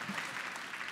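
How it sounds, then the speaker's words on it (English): Audience applause at a stand-up comedy show, a steady, dense clapping wash from a crowd that fills the whole short moment without any talk. "Thank you for the applause."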